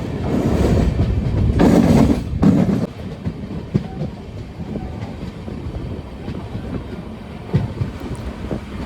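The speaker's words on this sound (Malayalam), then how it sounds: "അങ്ങനെ നമ്മുടെ ട്രെയിൻ ആലുവ റെയിൽവേ സ്റ്റേഷനിലെത്തി." A passenger train pulling into Aluva railway station, with loud wheel rumble and clickety-clack over the rails, wind buffeting the microphone, then steady rolling clatter with sharp rail-joint knocks as it slows.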